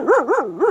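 A dog barks nearby, three quick high yelping barks in a rising-falling pattern, close and loud, with no one talking over them.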